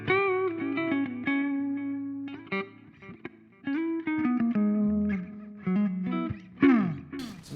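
Clean Gibson Les Paul Standard '60s electric guitar notes and chords ring out with warm, deep tone and sustain, played in short phrases with pauses, ending in a brighter strummed burst.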